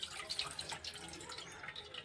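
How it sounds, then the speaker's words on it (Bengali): Boiled raw tamarind pulp being strained in a kitchen, giving soft wet drips and trickling liquid with faint squelches, steady and close, with no talking. "তেঁতুলের টকটা আমি"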